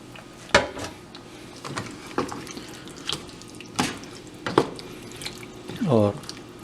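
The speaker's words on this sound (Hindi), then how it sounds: "1 कप इसमें पानी ऐड कर दिया।" Water splashes into a simmering potato and pea curry, with irregular splashes and sharp pan clinks, close and loud, and a voice faintly in the background.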